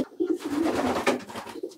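Pigeons coo in a loft, a dense continuous burble of low throaty cooing from several birds nearby, with no talk over it.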